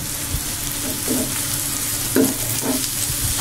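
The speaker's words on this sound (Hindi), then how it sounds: "ये देखें चम्मच की मदद से मैं अंडों को तोड़ रहा हूँ।" Egg bhurji cooking in a pan, a soft continuous sizzle with a few short scraping knocks as a spoon breaks up the eggs, close and fairly quiet.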